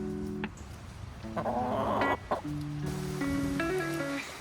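Backyard coop hens cluck and chatter, several short calls and drawn-out tonal notes scattered over a few seconds, fairly close with no talk.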